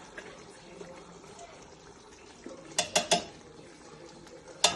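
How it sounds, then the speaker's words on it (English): Canned tomatoes go into a pot for Ghanaian jollof rice, giving a few quick clattering metallic knocks and scrapes from a can and spoon against the pot over a faint background hum. "So you put the tin tomatoes in."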